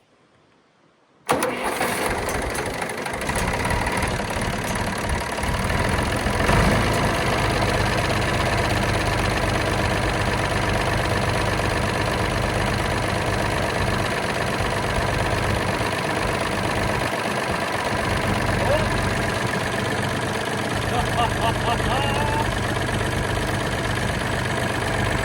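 A neglected John Deere tractor engine catches after a moment of silence, then settles into a steady, loud, slightly knocking idle that runs on alone without any talk.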